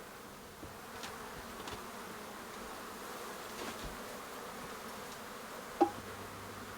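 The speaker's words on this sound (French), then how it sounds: "Moi, j'ai jamais vu autant de mouches dans ma vie." A swarm of flies buzzes steadily around a camper van, a dense continuous drone with individual insects passing close now and then, and no talking.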